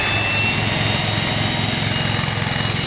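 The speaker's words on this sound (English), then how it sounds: "You can hear the generator load." An off-grid generator runs steadily under load at around 1800 RPM, charging a battery bank. It gives a continuous, fairly loud mechanical drone with a low rhythmic throb and broadband hiss, and no speech.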